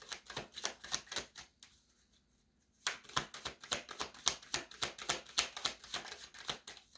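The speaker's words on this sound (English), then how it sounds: "Oh, that's a lot of cards, y'all. Hold on, I'm gonna put these back." A stack of playing cards riffled and handled up close, with rapid papery flutters in quick bursts, a brief pause, then more steady shuffling with no voice over it.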